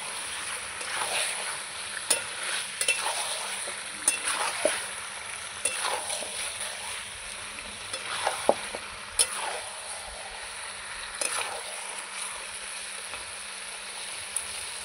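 Potatoes being stirred into chicken curry in a pan, a low wet sizzle under repeated soft scrapes and knocks of a spoon against the pan at an uneven pace.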